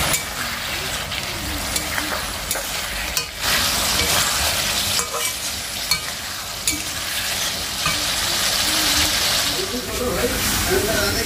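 Soybean chunks sizzle and fry in a pan over a fire, a steady bright hiss with occasional stirring scrapes, and a voice speaks over the cooking.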